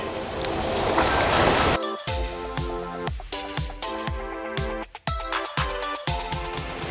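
Water flowing from a Jebao TM-5000 pump, a loud steady rushing gush that gives way to choppy, uneven splashing, with no voices over it.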